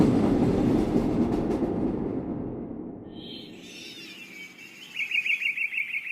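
A train runs as a sound effect in a narrated story: a heavy rolling rumble fades over several seconds, then high whistling tones and a run of quick rhythmic pulses take over near the end.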